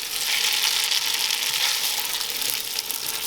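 Spaghetti carbonara sizzles and hisses in a hot pan as it is stirred, a steady bright frying noise, close and fairly loud, with no voices.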